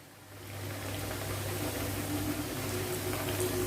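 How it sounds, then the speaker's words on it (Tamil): Rice flour snack deep frying in hot oil over a medium flame, a steady close bubbling hiss that swells gradually and holds evenly throughout. "நல்லா கிறிஸ்பி ஆகிற வரைக்கும் பொரிச்சு எடுக்கணும்"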